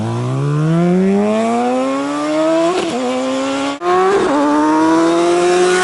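A motorcycle engine revs hard with the throttle cranked, its pitch climbing steadily, dropping briefly for a gear change, then climbing again. The sound is loud and close, with no speech.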